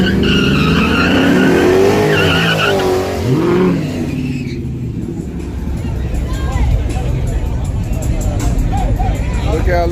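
Roaring engines from a Dodge Charger and a truck drag racing rev and race past with tire squeal, while a crowd chatters and a voice talks over the noise.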